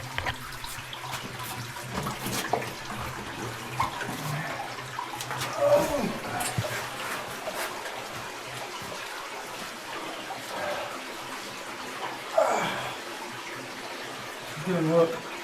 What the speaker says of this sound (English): That's where the underground river's at.